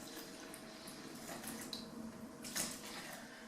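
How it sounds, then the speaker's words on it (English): Water pours into a mixing bowl in a steady, moderate stream, splashing softly and continuously throughout, with a slight surge near the end. "So we're going to add our water."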